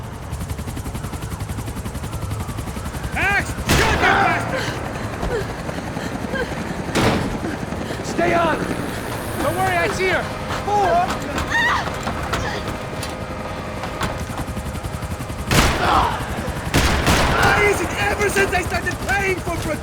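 Gunfire from the Max Payne 3 video game, with sharp loud shots and bursts spread through a busy scene, a few isolated cracks between clusters, mixed with shouting voices and other action noise.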